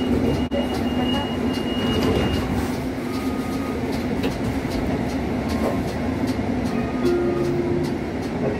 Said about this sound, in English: This is the train to Tonnelle Avenue.